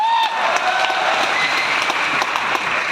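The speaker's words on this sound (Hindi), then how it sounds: "तालियां बजा लो उनके लिए।" An audience at a motivational speech event in a resort hall bursts into loud, dense applause, sustained clapping filling the whole moment with a faint voice briefly above it.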